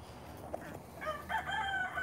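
Chickens on a small backyard flock giving short, rising clucks and squawks, fairly close and moderately loud, growing busier toward the end.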